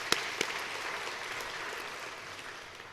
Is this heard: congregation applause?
yes